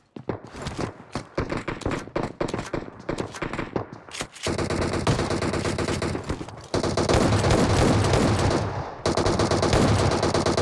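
Automatic gunfire in the PUBG Mobile battle game, starting as rapid, separate bursts of shots and building into a dense, unbroken roar of rifle fire. A brief pause comes near the end before sustained loud shooting resumes.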